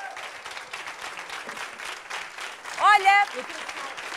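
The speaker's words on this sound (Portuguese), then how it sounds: "Uma salva de palmas." Studio audience on a Portuguese TV variety show claps for a band, a steady wash of applause with a brief shout and a short spoken word near the end.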